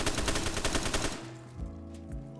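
Rapid automatic gunfire from a World at War weapon in Black Ops 3 Zombies rattles off in a dense burst of shots for about a second, followed by lingering game tones and a fainter trailing sound.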